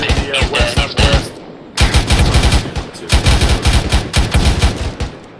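Sustained machine gun fire in a video game, rapid loud bursts in several strings with short pauses, close and dominant.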